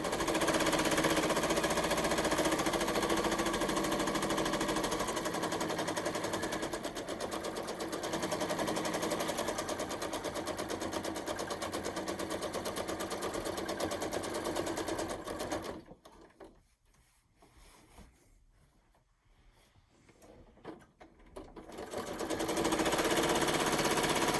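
A domestic sewing machine runs continuously while machine quilting, its fast mechanical whirring and needle chatter steady for about fifteen seconds, then stopping briefly before starting again.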